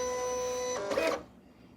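A Silhouette Cameo 4 cutting machine runs with a steady mechanical hum and faint whine, then gives a brief louder whir near the end before the sound falls away to near silence.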